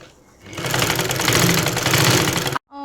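A sewing machine stitches folded churidar fabric, its motor whirring in a loud continuous rattling run that starts after a quiet moment and stops abruptly near the end.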